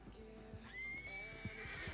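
A horse neighs loudly in a long, rising whinny, with hoof clip-clops and background game sounds from Red Dead Redemption Online.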